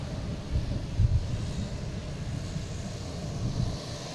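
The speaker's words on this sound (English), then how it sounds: "747-800 coming in from Frankfurt" A Boeing 747-8 from Frankfurt on approach to Boston Logan, its engines a steady broadband roar with a low rumble that swells slightly midway, heard from the ground with some wind buffeting.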